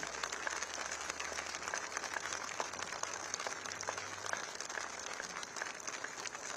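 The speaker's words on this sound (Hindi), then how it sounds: "इसके जोरदार तालियां हो जाए 1 मिनट तक" Faint, distant applause from a crowd at an event near Rajghat, a steady patter of clapping that continues evenly with no talking.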